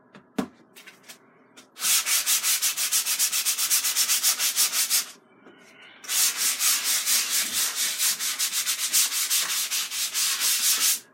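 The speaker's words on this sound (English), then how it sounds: "180 grit sandpaper." Stiff silicone 180 grit sandpaper scrubbing a gesso surface in two long runs of fast, steady back-and-forth strokes, close and loud, with a brief pause between them and no talk.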